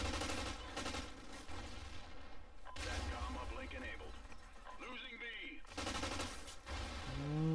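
Gunfire from a gun in a first-person shooter video game: bursts of rapid shots that stop briefly and resume in clusters, with a player talking over them throughout.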